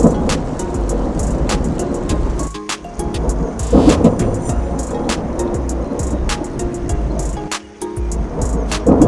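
Hail and rain pelt down during a mountain hike at Lake O'Hara, a loud, dense patter of impacts with sharp ticks scattered throughout, steady and close for the whole stretch.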